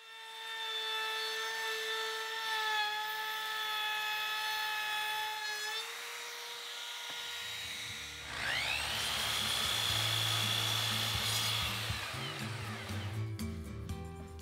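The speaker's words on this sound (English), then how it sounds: "I'm using a cove bit in the router to make the detail in the molding." Router fitted with a cove bit cuts decorative detail into wooden molding for a planter box, a steady high whine that shifts pitch partway through and turns rougher and louder as the bit bites into the wood.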